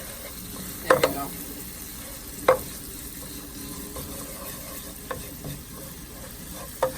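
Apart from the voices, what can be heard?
chili frying and sizzling in a pan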